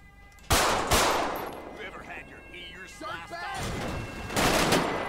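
Automatic weapon gunfire in the video game GTA 5 during a police shootout, with loud bursts near the start and again near the end, while voices talk in between.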